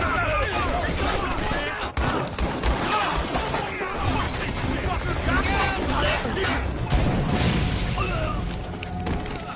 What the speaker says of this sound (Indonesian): sehingga terjadilah baku tembak